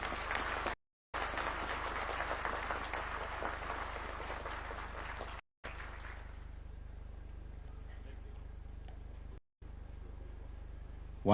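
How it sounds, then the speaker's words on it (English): An audience at a National Defence graduation ceremony presided over by President Ruto breaks into applause, a full burst of clapping that thins out and fades to a quieter murmur after about six seconds, interrupted by brief dropouts. "Let us give them a round of applause."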